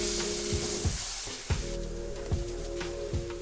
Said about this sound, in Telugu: అల్లం వెల్లుల్లి పేస్ట్ ఫ్రై అయ్యే వరకు, పచ్చివాసన పోయే వరకు ఫ్రై చేసుకోవాలి